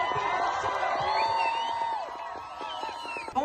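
A crowd at a pro-Palestine rally cheers and whoops, with high shouted voices and scattered clapping rising together at moderate distance, fading slightly toward the end.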